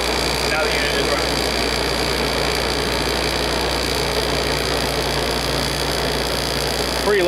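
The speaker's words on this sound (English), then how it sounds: "Pretty loud compressor too." A knob-controlled analog air conditioner runs close by, its loud compressor giving a continuous, even hum and rattle throughout, with a voice faintly present.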